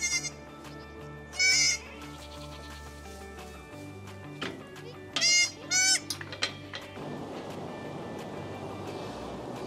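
Goats and newborn kids on a spring farm bleating in several loud, wavering calls that come in bursts over steady background farmyard noise, with no talking.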